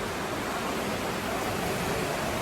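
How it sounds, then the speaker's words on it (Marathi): A river flows year-round past a temple site near Karjat, a steady broadband rush of water that stays even and unbroken throughout. "12 महिने नदी वाहते"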